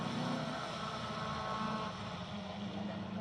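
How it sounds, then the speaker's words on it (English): Subaru engine powering an 1980s Alfa Romeo rally car on a winter stage at Brands Hatch, a steady broad engine thrum with road and wind roar, held continuously without a break. "the thrum of a Subaru engine clear to hear from that Italian 80s classic"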